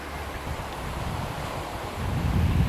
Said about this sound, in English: It's got a beautiful ocean breeze right now.